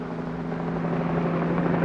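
A police helicopter flies over a city, its steady rotor and engine drone continuous and fairly loud throughout.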